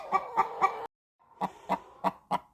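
Hens cluck in a roosting box, close and moderately loud, in short rhythmic bursts: three clucks, a brief silence, then a steadier run of five more.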